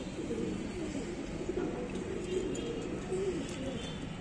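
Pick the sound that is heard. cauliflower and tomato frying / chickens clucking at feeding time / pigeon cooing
pigeon cooing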